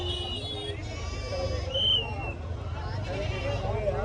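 Goats bleat at a busy roadside goat market, a few wavering cries rising out of steady crowd babble and traffic noise, with people talking throughout.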